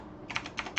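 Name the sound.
typing on a computer keyboard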